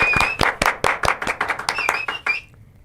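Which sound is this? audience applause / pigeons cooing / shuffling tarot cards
audience applause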